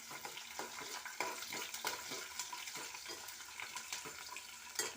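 Cumin and other ingredients sizzling in a pan for a tomato dish, a steady close hiss with a few soft stirring scrapes and clinks throughout.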